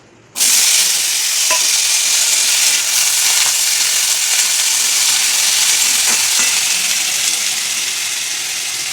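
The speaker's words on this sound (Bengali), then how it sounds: "ফোড়নটাকে একটু নাড়িয়ে নেবো" A spice tempering sizzles loudly in hot oil in a pan as it is stirred, a dense steady hiss that starts abruptly and carries on with faint scrapes of the spoon.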